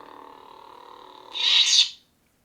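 A synthetic, warbling Geonosian creature cry from a lightsaber sound board, with a steady buzzing tone underneath, swelling into a brighter, louder screech before cutting off abruptly.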